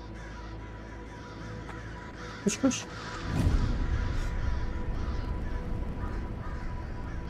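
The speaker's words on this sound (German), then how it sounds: "Hallo, ihr Krähen?" Crows caw a few times in the video game Pineview Drive, short rough calls against a low ambient drone, followed by a swelling rustle of movement; someone speaks briefly.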